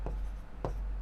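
Two short scratchy strokes of pen or chalk writing out the solution to a class 10 maths problem on HCF, spaced apart over a low steady hum.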